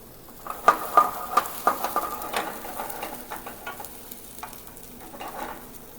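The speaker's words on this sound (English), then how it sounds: "I have hot olive oil in the pan. I'm now going to add my onions and sweat them." Minced onions hitting hot olive oil in a pan for rice pilaf, a close crackling sizzle punctuated by a series of sharp stirring taps and scrapes that ease into a softer hiss.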